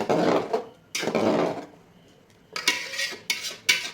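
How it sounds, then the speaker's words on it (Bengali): Khichuri being stirred in a pot after turmeric powder goes in, with several bursts of utensil scraping and clattering against the pot, separated by a brief quiet pause. "দেড় চামচের মতো হলুদ গুঁড়ো দিলাম ভালো করে নাড়িয়ে নেব"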